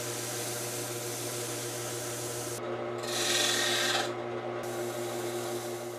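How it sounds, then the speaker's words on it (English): Steady abrasive rasping of wood being sanded on a spinning lathe, a constant motor hum underneath, with a brief louder, brighter stretch midway. "I'm just going to do some sanding on here to try to even everything out."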